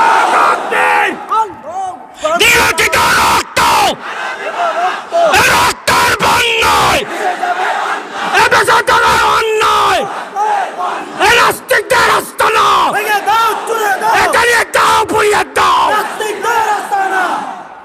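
A large crowd at a religious political rally in Bangladesh roars a loud unison chant in answer to the Nara-e-Takbir call, repeated bursts of massed shouting rising and falling with brief pauses between them.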